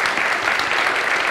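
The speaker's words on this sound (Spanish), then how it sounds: "un aplauso, por favor." Brief burst of steady audience applause at a talk by a Japanese-Colombian speaker, dense and even for its whole short length.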